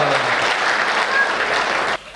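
An audience at a live comedy show breaks into loud, dense applause that goes on steadily and then cuts off sharply near the end.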